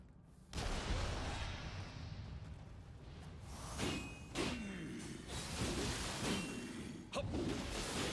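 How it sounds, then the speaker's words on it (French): Arquebus fire in Nioh 2, several sharp heavy booms spaced a few seconds apart, each ringing out over a rushing background of combat noise. "L'arquebuse."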